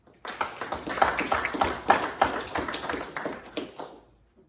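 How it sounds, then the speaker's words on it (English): Audience at a 2021 high school sports awards ceremony claps for about four seconds, a dense patter of hands that swells quickly and fades out at the end. "Give yourselves a round of applause."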